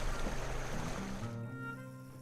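Flowing brook water in the video game The Night of the Rabbit, a soft continuous trickle and rush with a low hum beneath, fading to a quieter tone with faint musical notes partway through.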